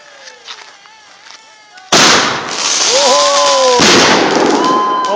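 Labour Day fireworks burst with a sudden loud bang, followed by crackling and a second blast, close by, with people's voices and whistling tones around them.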